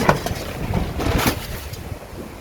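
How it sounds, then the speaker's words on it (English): Gusty wind buffets the microphone outdoors, a rough low rumble that swells and fades over a couple of seconds with no voices. "This wind, oh my word."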